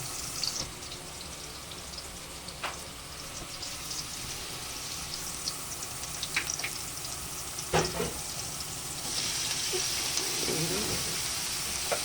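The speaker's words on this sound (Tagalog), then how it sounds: "gigisa lang natin ang ating bawang sibuyas at saka yung ating karne giniling" Garlic, onion and ground meat sautéing in a pan for spaghetti, a steady low sizzle running throughout with occasional clinks and scraping of a utensil, growing slightly louder near the end.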